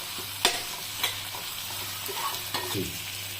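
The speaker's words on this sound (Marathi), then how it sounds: "हे एकदा चांगलं परतून घ्यायचं लसणीचा जो वास असतो तो थोडा निघून जाईल कच्चेपणा तोपर्यंत परतून घ्यायचं" Ginger-garlic is sautéed in a pan for street-style cheese masala pav, with a steady soft sizzle and a few sharp spoon scrapes and taps against the pan. Close and alone, no speech.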